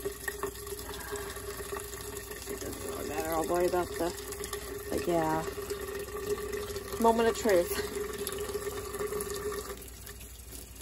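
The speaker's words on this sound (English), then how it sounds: "I'm going to start with warm water." Warm water runs from a tap into an old sink that needs replacing, a steady hiss beneath a person talking nearby.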